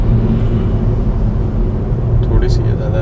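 Engine of a 2018 Ford EcoSport with a slightly diesel-like character, a steady low rumble heard from inside the cabin with voices talking over it.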